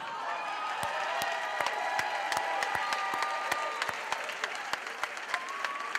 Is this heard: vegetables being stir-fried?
no